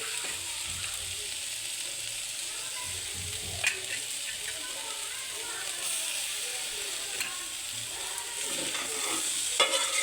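Vegetable bhaji frying in a pan, with a continuous close sizzle broken by scraping and clattering as it is stirred.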